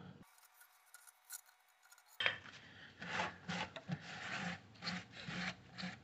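Close, dry scraping of a flat screwdriver cleaning residue from a groove around a spark plug on a 2011 Nissan Frontier 4.0, repeated in short uneven strokes with small clicks between them.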